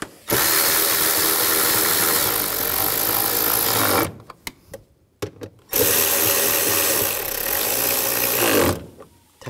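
A power tool drives bolts into the radiator cooling fan assembly of a 2011-2019 Ford Explorer, with two loud sustained whirring runs of several seconds each. Brief clicks and clatter fall in the pause between them.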